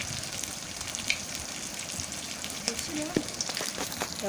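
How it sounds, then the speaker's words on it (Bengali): Pabda fish frying in hot oil in a wok, a steady close sizzle and crackle with occasional small pops throughout. "দেখো খুব সুন্দর করে প্রথমে মাছগুলোকে ভেজে নিচ্ছি"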